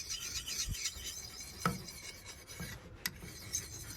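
Kukri knife blade drawn across a small jade whetstone pendant: close, gritty rasping strokes repeated steadily with faint metallic scrapes, no voices.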